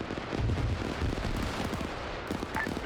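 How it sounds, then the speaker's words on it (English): Explosions in a military game battle sound as dull, distant thuds and crackling blasts layered over a constant background rumble. "explosions you're hearing"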